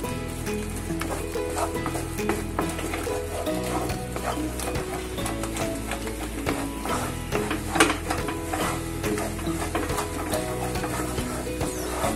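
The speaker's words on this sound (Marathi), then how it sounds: "गॅस बारीक करायचा आणि एका साइडने हे पीठ सोडत सोडत हलवत राहायचं." Thick gram flour batter is stirred and scraped in a pot of boiling water over low heat, with soft bubbling, clacking utensil strokes and faint sizzling throughout.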